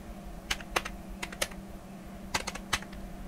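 Scattered keystrokes on a computer keyboard tap in small irregular bursts, close and fairly quiet, with no one talking.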